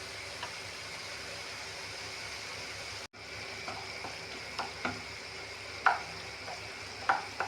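Tamarind mixture for fish pickle boiling in oil in a pan, giving a steady low sizzle and bubble throughout, with a brief break partway and scattered small pops and crackles later on.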